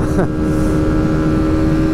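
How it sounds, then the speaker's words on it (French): A Benelli Leoncino 125 motorcycle engine is held near full throttle, a loud, steady high-pitched whine with a sharp pitch jump at the start, close and continuous throughout. "là je suis quasiment à fond et en étant que le moteur hurlote un peu là"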